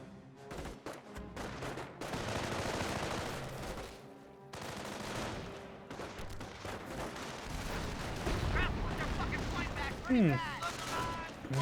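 Mortar impact and rifle and machine-gun fire from a Company of Heroes battle, a dense, continuous wash of shots and blasts. Brief gaps fall between volleys and a sharper burst comes late.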